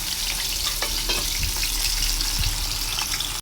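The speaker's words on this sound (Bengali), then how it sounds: "এখানে আমি আজকে ইলিশ মাছ ভেজে নেব।" Hilsa fish fries in hot oil with a dense, loud, continuous sizzle and crackle, a few sharper pops standing out, and no voices.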